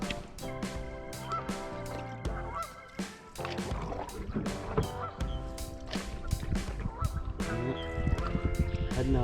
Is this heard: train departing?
no